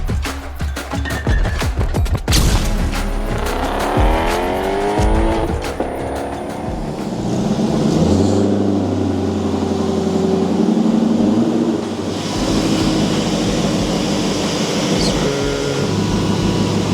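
A V8-swapped Audi runs outside, its engine rumbling steadily with revs rising and falling, loud and fairly close throughout.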